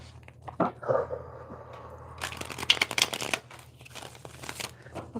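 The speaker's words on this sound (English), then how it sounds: "That was a bad shuffle." A deck of playing cards is handled and then shuffled, with a few soft taps and slides before a quick, crisp riffling burst in the middle, followed by lighter fluttering. Close and fairly quiet, with no talking.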